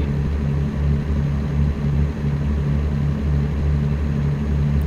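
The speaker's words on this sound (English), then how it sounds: "Hey, look, a helicopter" A helicopter flies overhead while driving near the Phoenix city limits: a steady, loud, pulsing rotor drone that continues unbroken with no talking.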